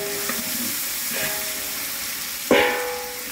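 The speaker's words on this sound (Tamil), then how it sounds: "தக்காளி வதக்க போட்டுருக்கிறேன்" Tomatoes sauté in a pan for a spicy pepper rasam, a steady close sizzle with a brief louder burst of frying near the end, no voices.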